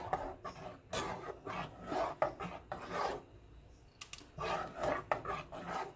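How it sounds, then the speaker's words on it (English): Wooden spoon stirring Jamaican-style peanut and oat porridge in a pot, rhythmic scraping strokes in repeated bursts with short pauses, close and moderately loud, no one talking. "I like to use my wooden spoon, so I'm going to exchange the spoon so it don't scrape up the pot."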